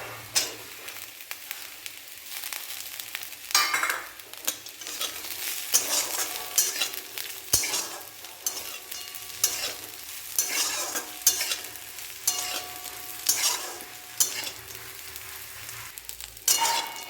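Small fish and onions sizzling in oil, with a spatula repeatedly scraping and stirring the pan in an irregular rhythm, close by.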